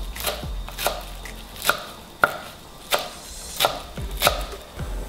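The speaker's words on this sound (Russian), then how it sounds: "Нарезаем средний, не очень мелко и не очень крупно." A kitchen knife chops a fresh bunch of parsley on a cutting board for soup, giving sharp, distinct knocks at an uneven, unhurried pace, close and clear, with no talk.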